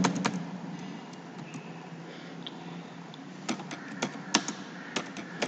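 Light typing on a computer keyboard: close, soft clicks patter unevenly, then a handful of sharper keystrokes at the end, with no voice.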